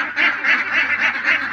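Domestic ducks on a farm quacking loudly and close, a steady rhythm of repeated nasal calls from the flock with no talk.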